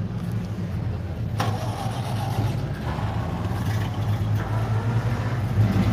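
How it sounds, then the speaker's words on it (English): A custom 1930s tow truck with side pipes and a wheelie bar rumbles loudly and steadily up close, with a sharp rise near the start as the engine catches, then a heavy continuous idle. "Listen to that. That's that truck."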